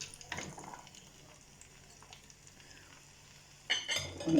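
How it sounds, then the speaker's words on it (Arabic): Carrots and potatoes being sautéed and stirred in a pot for red pumpkin soup, a soft sizzle with faint scraping, rising to louder stirring and clatter near the end. "كنشحر فيه هادشي مزيان"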